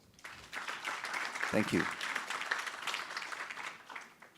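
A conference audience applauds to welcome a leadership panel, with steady, moderately loud clapping throughout and a brief spoken thank-you heard over it partway through.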